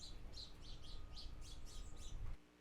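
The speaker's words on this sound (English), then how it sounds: "That's kind of what a house sparrow sounds like." A house sparrow gives a quick series of short bright chirps in a rapid run, fairly faint and close, over a low rumbling background.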